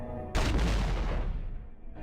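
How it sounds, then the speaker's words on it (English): Grenade launcher in Devil May Cry fires with a sudden loud boom that rolls into a rumbling blast and fades over about a second, one single hit with no talk. "Yep, that's a grenade launcher for you"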